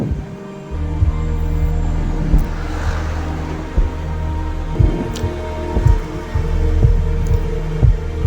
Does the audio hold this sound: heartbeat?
yes